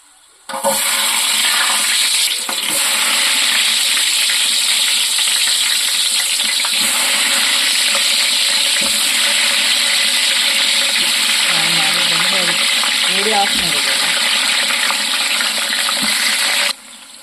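Onions hit hot oil and ghee for mutton biryani with a sudden loud sizzle that holds as a steady, intense crackling hiss for about sixteen seconds, with faint stirring scrapes partway through and no talking.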